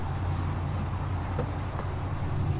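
A new Chevy SS pulling away, its engine a steady low rumble with road noise running evenly throughout, close and fairly loud.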